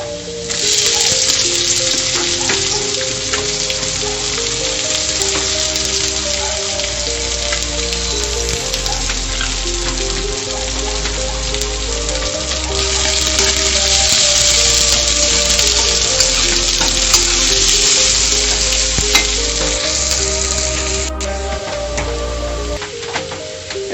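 Chopped garlic and onion fry loudly and steadily in a pan, a dense continuous sizzle with occasional stirring, close and without talk.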